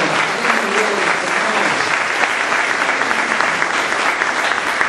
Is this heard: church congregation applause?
yes